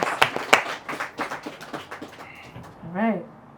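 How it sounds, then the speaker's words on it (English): An audience at a spoken word poetry show gives a brief burst of clapping that thins out quickly, followed by a voice talking. "give everyone a round of applause"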